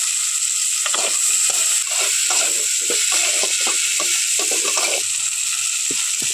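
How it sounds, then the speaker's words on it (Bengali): Chopped medium tomato sizzles and fries in a pan of potol and lentil curry, a steady close crackling hiss with faint stirring scrapes throughout. "দিয়ে দিচ্ছি কুচনো টমেটো"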